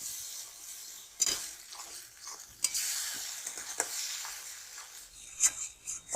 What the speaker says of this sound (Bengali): এবারে আমি এই কাজু আর টমেটোর পেস্টটা দিয়ে দেব। আবারও ভালো করে কষিয়ে নেব।